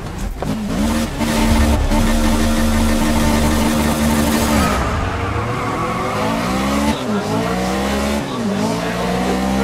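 Race cars in the Grid 2019 video game rev loudly together on the starting grid just before lights out, a dense, steady roar of engines with pitch swoops and brief tire noise building over about ten seconds.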